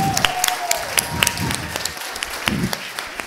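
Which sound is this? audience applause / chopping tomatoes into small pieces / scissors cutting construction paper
audience applause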